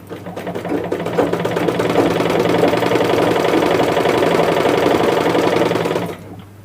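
A tailor's sewing machine stitching steadily with an even, rapid mechanical whir and a low motor hum, loud and close, running continuously for about six seconds before stopping.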